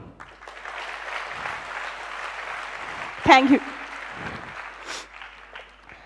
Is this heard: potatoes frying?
no